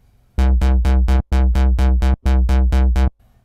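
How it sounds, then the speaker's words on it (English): Sylenth1 synth bassline through a low-pass filter with LFO modulation, playing a steady run of about ten loud, evenly spaced, buzzy rich-toned pulses in a tight rhythm, with brief gaps between groups. "so let's assign a low pass filter"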